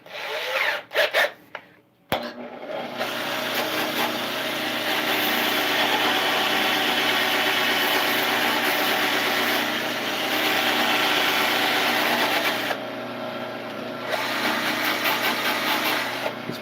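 A power drill spins a 120-grit sanding attachment against a yew workpiece on a lathe, a loud, steady whirring rasp running continuously after a few brief starts, with no talk.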